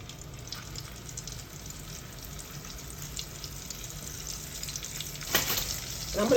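Okra frying in hot grease gives a steady close sizzle, with a sharper hiss near the end as the pan is disturbed; no speech.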